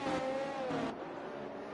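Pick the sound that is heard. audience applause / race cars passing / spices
race cars passing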